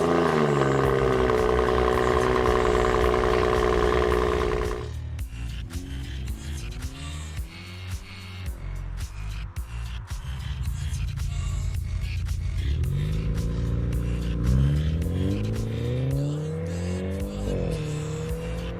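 Car exhaust systems, some louder with the resonator removed, idle with a steady low drone for several seconds, then rev up and down in loud rising and falling sweeps, with no talking.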